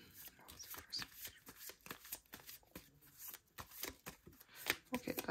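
Rapid riffling and flicking of a deck of tarot cards being shuffled, with soft clicks and slaps close by and a voice speaking intermittently.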